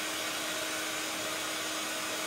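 A hair dryer blows continuously on watercolour ink and paint during card-making, a steady loud whooshing roar with no change in level from start to finish.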